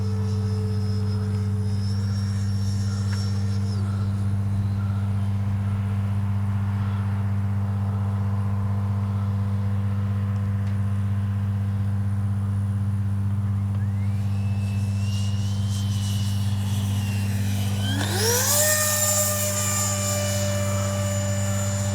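An H-King Flycat RC jet airplane drones steadily as it makes a touch and go, its whine shifting and rising sharply near the end as it passes close, loud and continuous without talk.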